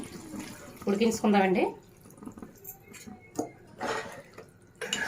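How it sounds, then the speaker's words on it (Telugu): Water from a glass splashes into a pan of potato and meal maker (soya chunk) curry, a short pour mixed in with someone speaking. "ఇందులో ఒక గ్లాస్ వాటర్ అయితే వేసుకుని"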